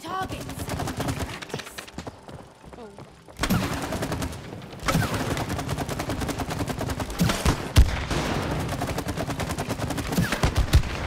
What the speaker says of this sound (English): Shooting targets!